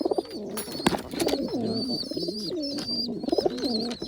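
Pigeons cooing close by in a nest area, repeated throaty rolling coos overlapping one another with a few sharp flutters and taps, no voices.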